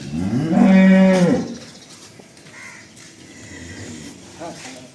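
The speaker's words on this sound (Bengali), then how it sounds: "একদম বিগ সাইজ গরু" A large, high-quality pregnant dairy cow lets out one loud, close moo lasting about a second, followed by quieter farm background sounds.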